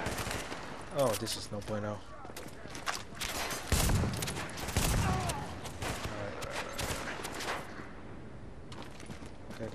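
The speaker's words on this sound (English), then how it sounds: "They're shooting me from the back too." Bursts of enemy gunfire in a Division Dark Zone firefight, sharp repeated shots clustering mid-clip, with someone talking briefly over them.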